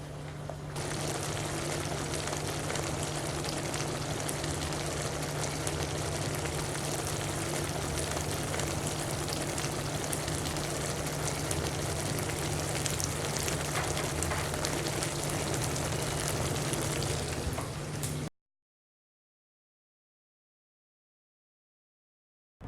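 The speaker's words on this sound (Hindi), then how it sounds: "फ़िश के पीसेस डालने के बाद बस हाई फ्लेम पर हम इसी तरह से बस 1 मिनट पकाएंगे" Fish pieces for chilli fish cooking in a pan over a high flame, giving a loud, steady, dense sizzle with a low hum beneath that runs unbroken for about eighteen seconds before cutting to silence.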